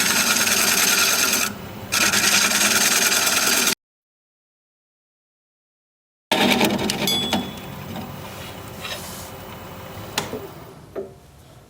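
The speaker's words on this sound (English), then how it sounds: "I'm going to try and do a little shear scrape here." A wood lathe tool shear-scraping a turned wooden bowl, heard as a continuous close rasping hum, then a gap of silence before the scraping resumes more unevenly with a few sharper ticks and scrapes.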